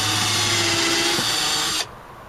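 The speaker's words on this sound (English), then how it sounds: "I'm gonna get going here and pre-drill and" A power drill pre-drilling holes for nails whines at high speed, close and loud, with the pitch shifting slightly before the motor cuts off suddenly.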